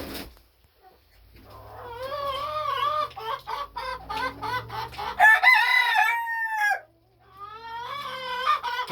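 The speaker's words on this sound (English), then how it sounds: "Cock-a-doodle-doo!" A rooster crows repeatedly up close, with loud, drawn-out cock-a-doodle-doo calls, clucking in between and a brief pause before another crow.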